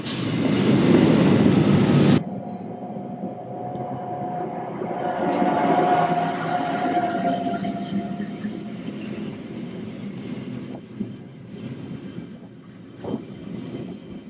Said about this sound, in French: À Samedan, nous retrouvons les rames tractées de la ligne de l'Albula.